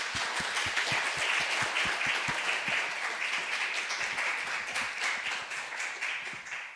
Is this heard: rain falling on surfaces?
no